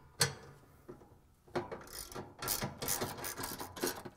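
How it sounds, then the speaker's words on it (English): A 13mm ratchet socket wrench loosens the bolts holding the motor bracket on a Whirlpool, KitchenAid or Maytag washer, in quick bursts of close, fast ratcheting clicks with short pauses. "Locate the 4 bolts that hold the motor bracket and using the 13mm socket wrench,"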